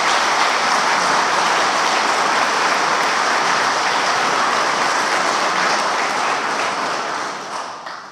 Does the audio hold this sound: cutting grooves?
no